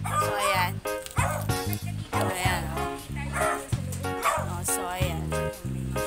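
A dog barks and yips repeatedly in a garden, loud and close, with short rhythmic bursts running through the whole stretch under a steady background.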